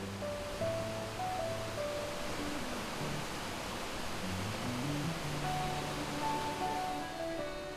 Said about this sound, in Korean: 산속의 정취를 더해주는 물소리를 따라